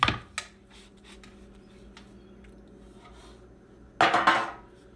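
Freshly baked Japanese milk bread is knocked out of its baking pan, giving a sharp metallic clatter at the start, a small tap, a quiet pause, then a louder rattling bang of the pan near the end.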